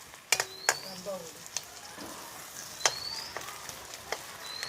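Garlic and ginger fry in a hot pan with a close, steady crackling sizzle broken by several sharp pops and spits.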